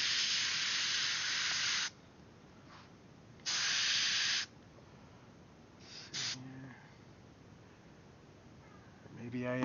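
An airbrush sprays yellow paint through a stencil in two loud, hissing bursts, each lasting one to two seconds, then a short faint puff. Quiet background hum fills the gaps, and brief vocal sounds come near the end.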